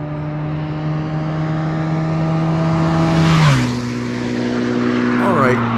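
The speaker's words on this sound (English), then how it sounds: "The stock exhaust note is too tame." A stock exhaust on a 120-horsepower 1980s muscle motorcycle drones steadily, then the revs drop sharply and rise again in a second swell, loud and close.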